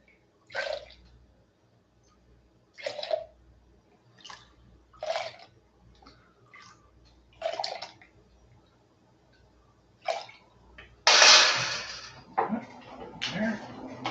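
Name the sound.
rinsing out a brewing vessel with water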